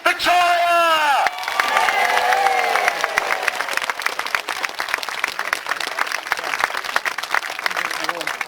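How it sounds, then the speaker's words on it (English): A large outdoor crowd at a historical festival bursts into loud, sustained applause and cheering, dense clapping continuing steadily after a brief opening of raised voices. "give a big, big cheer for Queen Victoria!"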